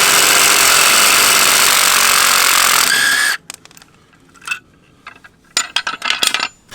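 An impact wrench loosens a nut on the brake lever of a 2020 Road Glide Special motorcycle, with a loud, steady buzzing run that cuts off abruptly, followed by scattered metallic clinks and taps.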